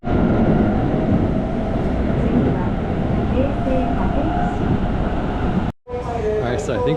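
A passenger train in Japan rumbles steadily from inside the car, a constant loud roar with faint voices beneath, cutting out briefly near the end before the noise returns.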